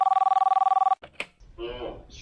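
A telephone ringback tone pulses steadily while a call is being placed, then cuts off and people begin talking.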